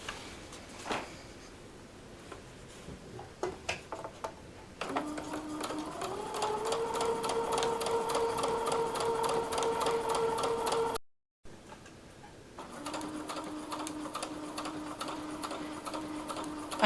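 A sewing machine quilting the outer fabric of a tote purse: after a few handling clicks, fast even stitching runs with a motor whine, pauses briefly, then resumes.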